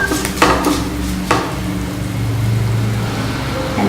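A spoon scrapes and clinks against a pan while fried chicken is stirred and mixed, with a few sharp metallic knocks over a soft background sizzle, close and without talking.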